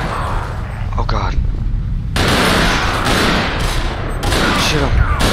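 Rapid bursts of gunfire in the game Garry's Mod during a roleplay firefight, loud and sustained with dense repeated shots, mixed with background game noise and people talking.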